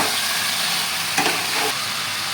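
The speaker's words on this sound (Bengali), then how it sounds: "এরপর এই মশলাগুলোর মধ্যে ম্যারিনেট করে রাখা মাটনগুলো দিয়ে দেবো।" Marinated mutton stirred into hot frying masala for a mutton curry, giving a steady, close sizzle throughout with a brief louder burst of frying and scraping midway; no voices.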